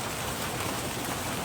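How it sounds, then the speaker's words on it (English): Golf ball-sized hail pelting down in Ohio during a thunderstorm, a dense, steady roar of impacts with no pauses and no voices. "Golf ball-sized hail raining down in Ohio on Wednesday."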